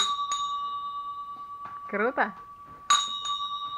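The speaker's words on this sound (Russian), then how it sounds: "Это настоящая латунь. Уменьшенная копия церковного колокола." Small real-brass bell, a scaled-down replica of a church bell, rings bright clear tones: a ding at the start, then a louder strike near the end with a lingering ring, while a voice speaks briefly in between.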